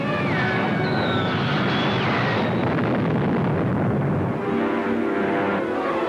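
A guided missile, a Cosmojet, rams its target in a 1953 science-fiction film serial: a loud, sustained roaring blast with descending whistling tones, filling the scene without pause.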